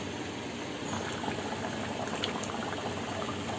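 Crab curry bubbles in a covered pot in a steady, close simmer, a continuous soft gurgling and hissing with no voices.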